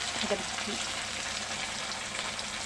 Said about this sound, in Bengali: আগে দুটো মাছ ভেজে দিই